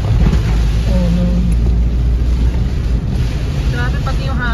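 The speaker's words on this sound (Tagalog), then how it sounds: "Grabe pati yung hangin umahataw." Strong typhoon wind gusts roar and buffet the microphone during flooding in the Philippines, a loud continuous low rumble with rushing noise and a few faint tonal whistles.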